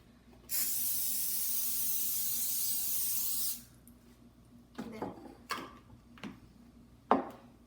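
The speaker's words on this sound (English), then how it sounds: "put it on the circular pan, which I'm gonna spray with olive oil" Olive oil spray hisses continuously for about three seconds onto a round pizza pan, followed by a few light knocks and taps close by.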